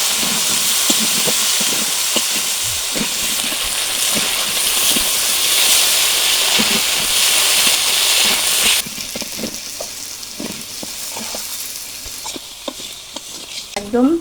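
Pieces of boal fish seasoned with salt and turmeric fry in hot mustard oil, a loud continuous sizzle and hiss with a spoon stirring and scraping in the pan, close up. The sizzle then drops to a quieter, steadier crackle.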